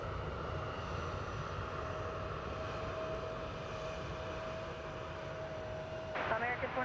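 Steady broadband airliner engine roar from flight 664 arriving at DFW airport, a sustained distant drone with a faint whine, holding level before a slight rise near the end.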